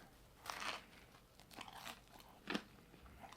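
Close chewing of a crunchy barbecue chicken sandwich, a few loud crunchy bites spaced apart with softer mouth sounds between them, no talking.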